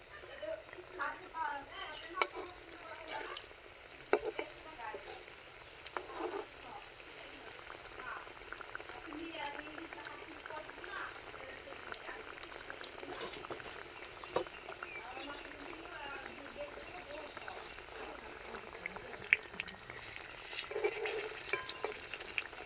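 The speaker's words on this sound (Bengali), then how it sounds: "লাল লাল করে সুন্দর করে ভেজে নেব, তাহলে উপরটা একটু ক্রিস্পি হবে" Vegetarian potato and bread toast frying in a pan until crisp, a quiet continuous sizzle with occasional stirring clicks and a faint voice talking at times.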